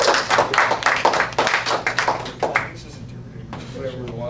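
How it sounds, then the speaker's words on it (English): An audience claps for a few seconds, with a burst of applause fading out partway through and then giving way to a voice talking. "Let's give him a big round of applause"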